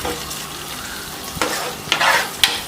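Tomato being stirred into mutton roast frying in a pan, a steady sizzle under repeated scraping strokes that grow louder toward the end.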